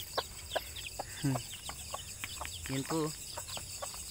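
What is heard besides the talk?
newly hatched native chicken chicks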